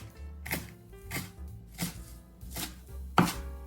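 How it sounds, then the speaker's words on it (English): A 30-gram onion sliced into half moons with a knife on a cutting board, about five crisp evenly spaced chops standing alone with a sharper final cut near the end. "Slice the onion into half moons"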